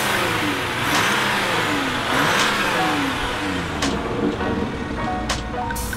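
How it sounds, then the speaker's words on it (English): Jeep Wrangler EcoDiesel diesel engine running loud and close, a steady rumbling drone with a few surges in revs, heard alone without talk. "It's a pretty loud diesel."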